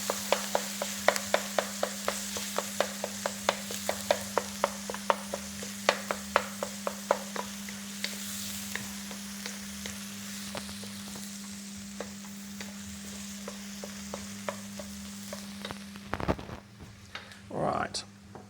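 Eggs sizzle in a hot pan while being stirred and scrambled, with a steady frying hiss and a quick run of rhythmic scraping taps from the utensil, followed by a few louder clanks near the end as someone talks.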